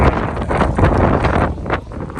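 Gusty wind buffets the microphone in loud rumbling bursts at a rainy hilltop viewpoint in Vagamon, rising and easing over a couple of seconds with no voices.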